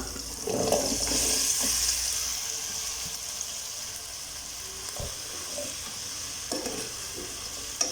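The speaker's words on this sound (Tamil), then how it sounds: "இந்த ஸ்டேஜில் நம்ம கட் பண்ணி வச்சுருக்க வெஜிடபிள்ஸை சேர்த்துடலாம்." Chopped vegetables tipped into hot oil for Tamil sambar rice, with a steady sizzle and frying hiss throughout, broken by a few clanks and scrapes of stirring.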